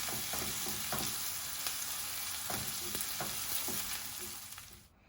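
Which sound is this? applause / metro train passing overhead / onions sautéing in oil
onions sautéing in oil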